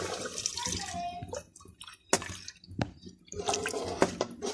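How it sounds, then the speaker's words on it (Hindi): Lassi poured into a kadhi mixture while it is stirred, giving continuous liquid splashing and pouring with clinks and scrapes and a brief spoon knock, close and fairly loud throughout. "थोड़ी लस्सी और इसमें डालूँगी और साथ इसको हिलाते जाएं"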